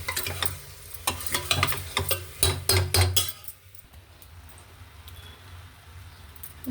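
Raw mango pieces fry in a pan for mango dal, with busy, loud stirring clatters and spoon scrapes for the first few seconds, then a quieter steady sizzle.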